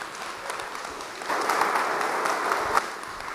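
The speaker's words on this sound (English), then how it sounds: "Everybody, please give Ken a round of applause" Steady audience applause at an in-person gathering, a continuous dense patter of clapping that swells slightly louder midway and holds at moderate volume.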